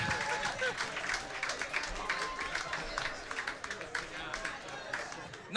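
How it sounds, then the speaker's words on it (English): Comedy club audience applauding after a stand-up set, a steady wash of clapping with scattered cheers that carries on throughout. "Another round of applause, everybody,"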